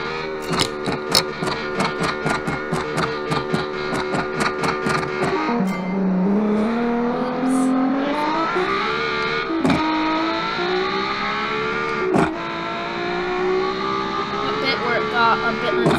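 A V8 race car engine in a video game revs and drones loudly on a road course, pitch climbing through gear changes, with a few sharp clicks and a voice talking over it.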